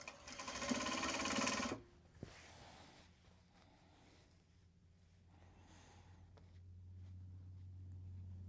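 A sewing machine stitches fabric for a Japanese tote bag, a loud close buzzing run lasting under two seconds, then a faint hum and quiet handling sounds.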